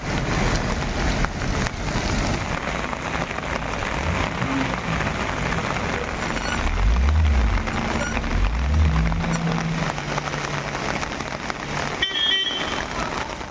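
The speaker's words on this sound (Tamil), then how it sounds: "நாமக்கல் மாவட்டம் திருச்செங்கோட்டில் இடி மின்னலுடன் கனமழை கொட்டி தீர்த்தது." Heavy rain pours steadily in Tiruchengode, Namakkal district, a dense continuous wash that holds throughout, with low rumbles of passing cars on the road partway through and no clear thunderclap.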